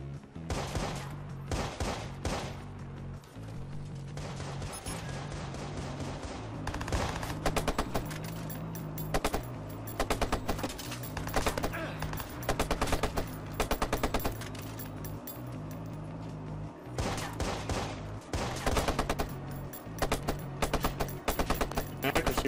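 Rapid bursts of automatic gunfire from Watch Dogs repeat throughout, loud, sharp volleys separated by short pauses over a low, pulsing game soundtrack.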